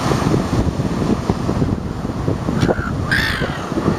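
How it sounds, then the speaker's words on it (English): Seagull calling over a windy coastal beach, two short harsh cries near the end above steady wind and surf rumble. "And that's a seagull."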